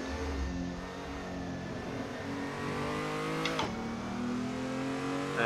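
Race car in a BMW virtual racing game accelerating hard, engine pitch climbing steadily, a quick gear shift drop midway, then revving up again, loud and continuous with no talk.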